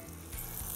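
White wine is poured into a hot paella pan, and a sudden loud sizzle bursts up, steady and close, with no talk over it.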